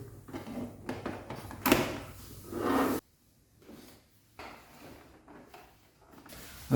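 A blue plastic cover on a jammed, paper-not-feeding printer is opened with a few clicks and scrapes of plastic, a louder clatter about midway, then quieter handling noises close by.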